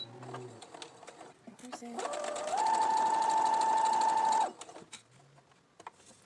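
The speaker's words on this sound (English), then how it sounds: "So I'm going to take this to the sewing machine" A sewing machine stitches a fabric face mask in a short steady run of whirring that starts and stops. Before and after the run there are brief handling sounds and quieter noises.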